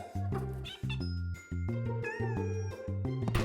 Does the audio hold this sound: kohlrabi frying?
no